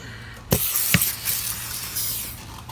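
Close aerosol spray hisses steadily into an RV slide-out during maintenance, punctuated by two sharp clicks near the start, then continues in uneven bursts.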